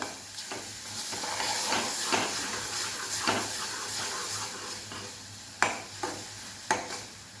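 Masala frying over a low flame for a thick mutton gravy: a steady soft hiss and sizzle with occasional stirring scrapes and a few sharp clinks, fairly close and with no talk.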